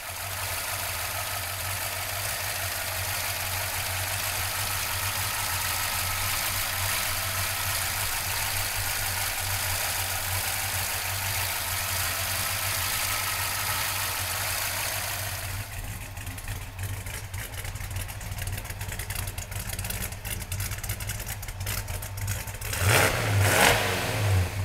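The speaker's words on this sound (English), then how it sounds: "We're gonna open up the hood, fire up the Hemi." A 1968 Dodge Charger Hemi V8 runs in a steady, loud low rumble, then the texture shifts partway through and ends in a brief rev as the throttle is blipped, with no talk over it.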